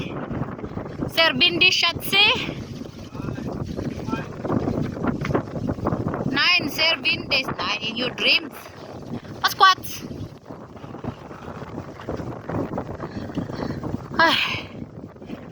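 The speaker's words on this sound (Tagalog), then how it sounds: "Grabe ka hangin." Strong wind buffets the microphone in heavy, continuous rumbling gusts under frequent close talk, near a corn farm as the sky darkens.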